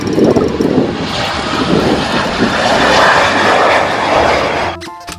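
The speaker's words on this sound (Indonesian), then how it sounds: "Aircraft. Pesawat terbang." A fixed-wing airplane's engine roars close and loud in a broad, steady drone that cuts off abruptly near the end.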